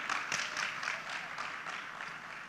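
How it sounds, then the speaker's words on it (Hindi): Audience applause at the Ideas of India 2023 event in Mumbai, a steady wash of clapping that carries through the whole stretch at moderate to faint level with no voices over it. "एक बार जोरदार तालियां हो जाएं फॉर विकास दिव्यकीर्ति सर।"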